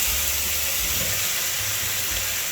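Fish cakes dropped into hot oil flavored with garlic and scallion, giving a loud, steady hiss of frying that sounds almost like rushing steam, with a low rumble underneath and no speech.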